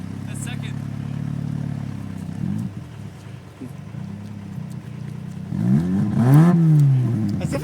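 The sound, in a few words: engine cold starting and revving, stuck in a snow bank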